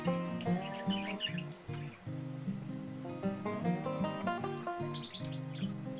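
Female budgerigars chirp and chatter busily at close range, a dense run of overlapping warbles and tweets with no pause.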